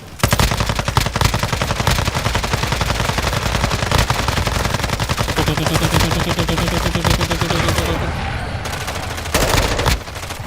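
Sustained machine gun fire in the video game Warzone 2 rattles out as rapid, loud, evenly spaced bursts that run almost without a break, then briefly stop near the end before resuming.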